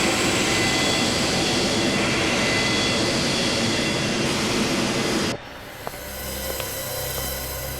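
A passenger plane's engines in flight, a loud, steady roar that cuts off abruptly and gives way to a quieter cabin hum with a few faint clicks.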